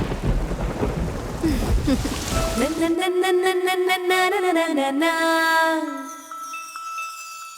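Rain pours in a dense, loud hiss for about three seconds before a sung melody with music takes over; no distinct thunderclap stands out.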